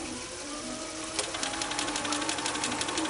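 A sewing machine stitches a curved quilt seam. Its needle starts after a short quiet pause and then chatters in a steady, rapid rhythm close to the mic.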